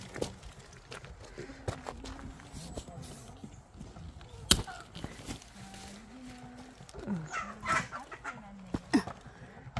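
Chickens clucking inside a countryside chicken coop, with scattered short clucks and occasional sharper calls, while people talk over them and shuffle about nearby.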